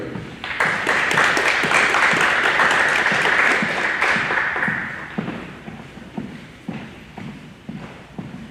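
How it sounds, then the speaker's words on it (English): An audience at a high school NJROTC change of command ceremony breaks into dense applause that swells for about four seconds, then thins out to scattered claps. "Please give them a round of applause."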